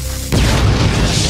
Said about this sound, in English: did I just hear another explosion?